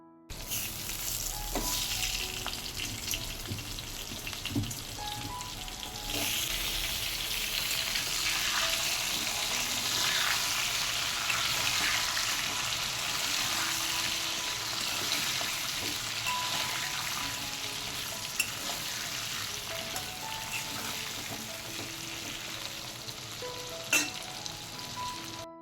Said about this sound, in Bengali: এবার আলুগুলোকে একটু ভেজে নেবো এর মধ্যে।